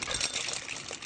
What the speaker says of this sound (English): I'm just going to pour my mussels